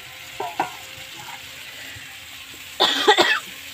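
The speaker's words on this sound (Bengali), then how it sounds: "এবার আমি ভালো করে মশলাটা কষিয়ে নেব" Spice masala being fried and stirred in a pan for a magur fish curry, quiet frying hiss broken by a couple of short scrapes early and a louder burst of stirring near the end.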